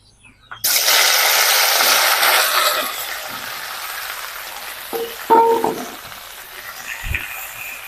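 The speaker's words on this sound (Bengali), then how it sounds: "তেলটা ভালো মতন গরম হয়ে গেছে এবার কেটে রাখা ভেন্ডি দিয়ে দেবো" Cut okra (bhindi) hits hot mustard oil in a pan with a sudden loud sizzle that hisses steadily, then eases into a softer crackle, with a few light utensil clinks near the end.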